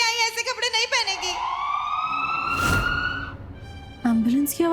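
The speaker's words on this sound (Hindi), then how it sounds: "एम्बुलेंस की आवाज क्यों आई?" An ambulance siren rises and wails up close in a Hindi TV drama scene, a sweeping tone that swells, briefly masked by a noisy burst, then gives way to a voice at the end.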